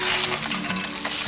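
Crappie fish frying in a pan as it is flipped, a brief close sizzle with scraping and shifting sounds.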